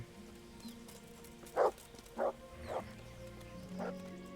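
A dog in the medieval video game Kingdom Come: Deliverance gives four separate barks at a moderate distance over a quiet ambient game background.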